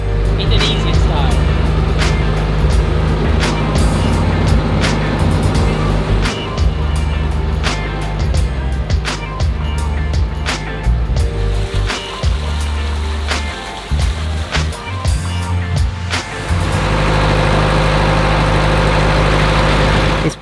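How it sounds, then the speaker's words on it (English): Loud, steady engine drone aboard a roughly 45-foot boat on calm Indonesian seas, a heavy low rumble with vibration running throughout, with people talking over it at points. "It's pretty noisy on board the boat"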